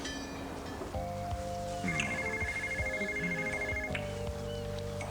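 A telephone rings with repeated electronic tones, layered over a busy room with shuffling and background noise, and no talk from anyone.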